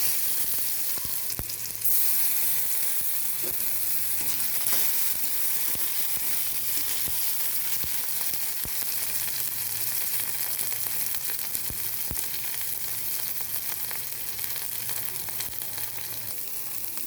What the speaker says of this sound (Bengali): এবার টমেটো কুচিগুলো ভেজে নেব